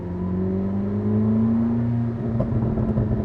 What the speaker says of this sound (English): Listen to that burble pop.